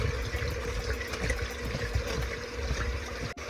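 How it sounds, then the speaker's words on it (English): Cold water pours steadily into a lemon meringue pie mix, a continuous splashing, gurgling stream heard close and alone for a few seconds before a sharp click at the end. "I'm adding the remaining 1½ cups of cold water."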